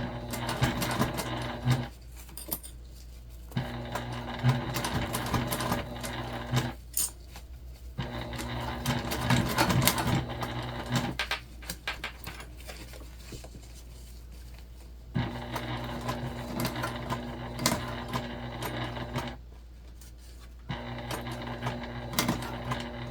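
A sewing machine stitches a modified Lindsport mini backpack in loud rapid bursts of close mechanical clatter, stopping and restarting several times with short pauses between runs.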